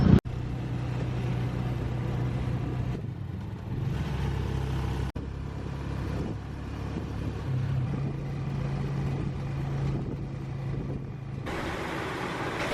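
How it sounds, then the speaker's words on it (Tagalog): Steady engine drone of a motorized tricycle ride in the Philippines, a low continuous hum with shifting revs and road rumble throughout, close and fairly loud, with no talking. "Sakay tayo sa tricycle."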